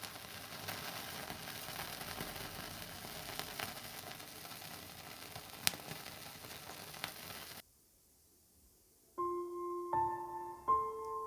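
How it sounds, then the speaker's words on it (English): Pieces of paneer tikka sizzle and fry in a pan with a loud, dense crackle that cuts off suddenly, followed by a brief quiet stretch and then a few short electronic tones. "See how beautifully these are sizzling."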